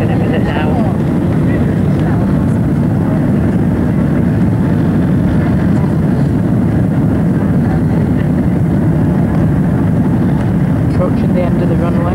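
Airliner touching down and rolling out along a runway at a London airport, a steady loud roar of engines and cabin rumble heard from inside throughout, with people talking faintly underneath.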